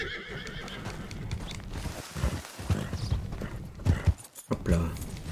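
A horse in the video game Red Dead Redemption 2 lets out a loud whinny among rhythmic clip-clopping hoofbeats, with a voice talking over the action.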